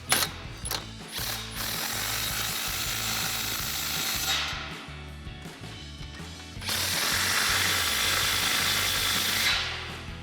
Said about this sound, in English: we'll tighten down our AccuSeal clamps